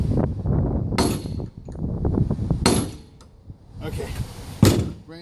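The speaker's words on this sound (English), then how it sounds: "regular 16-pound sledge. I don't have it anchored or anything. I'm just going to let it drop." A 16-pound sledgehammer is dropped onto a 4140 steel stump anvil, giving sharp metallic clangs with ringing, several distinct strikes amid handling noise and some talk.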